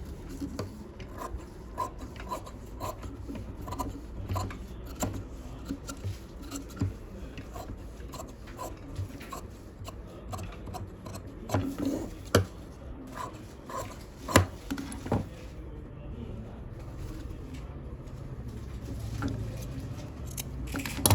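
Scissors cutting fabric for a pattupavadai sleeve, a long run of repeated crisp snips and rustles at close range, uneven in rhythm with a few louder cuts midway.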